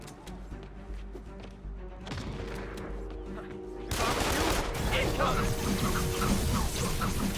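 Bursts of gunfire in the Spider-Man PS4 video game, rapid automatic shots that swell louder midway, layered with game effects and voices.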